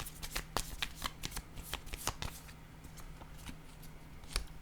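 A deck of cards is shuffled close up in quick riffles and snaps, with bursts of crisp flicking that slow and thin out toward the end.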